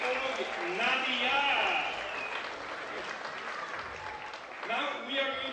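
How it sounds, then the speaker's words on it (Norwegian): An audience at a Barn av jorden 2015 concert applauds warmly, a dense continuous clapping that swells and holds, with a voice speaking over it in places. "Can you go down to a tremendous applause?"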